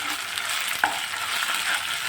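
Freshly ground ginger-garlic paste sizzles steadily in hot oil, with a brief scrape of stirring partway through, close and continuous without talk.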